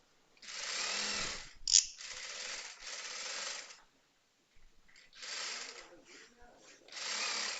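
Sewing machine stitching a fabric lining for a girl's skirt and blouse, running in several bursts with short pauses and one sharp click, fairly close.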